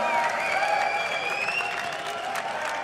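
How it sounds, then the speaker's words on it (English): A large esports crowd at a League of Legends match applauds steadily, a dense wash of clapping that holds throughout at a strong, even level. "And an applause from the crowd,"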